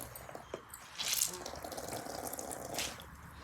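Juice squeezed by hand from grated radish runs and drips into a vessel, a soft, steady trickle of liquid with a few brighter splashes, close by and fairly quiet.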